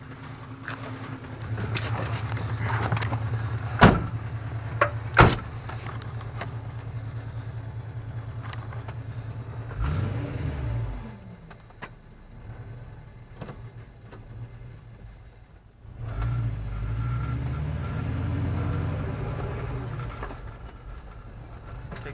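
A lowered Chevrolet Nova drives on a street, its engine rumbling steadily with a couple of sharp bangs early on, then two swelling surges of revving as it accelerates, the car close and fairly loud.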